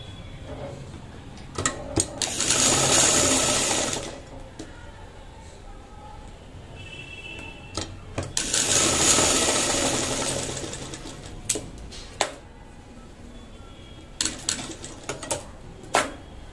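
Sewing machine joining straight-cut neck strips for a blouse, two whirring runs of a few seconds each, followed by scattered clicks and handling noises.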